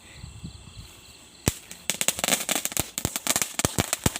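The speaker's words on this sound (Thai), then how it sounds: "เด็กเขาเลยมาลอยกระทงกันครับแล้วก็มีประทัดมาจุดเล่นด้วย" Firecrackers set off by children at a Loy Krathong festival: one sharp bang, a short pause, then a dense run of loud, close cracks and pops.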